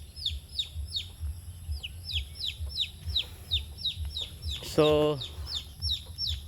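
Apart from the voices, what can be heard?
chick peeping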